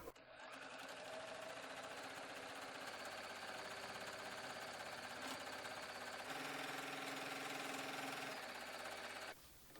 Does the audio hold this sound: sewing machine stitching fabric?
yes